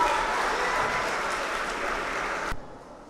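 Audience clapping for a child contestant on a Gambian kids' podium show, a broad wash of many hands for about two and a half seconds that cuts off abruptly into quiet.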